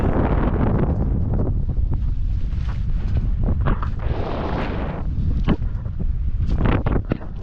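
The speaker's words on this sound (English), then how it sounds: "obviously you can hear a lot of the wind if I go outside" Steady, heavy wind roaring and buffeting outdoors on a sailboat, a continuous loud rush with gusty surges and occasional thumps, no voices.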